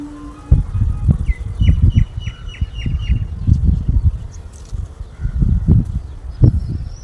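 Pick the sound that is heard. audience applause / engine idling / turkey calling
turkey calling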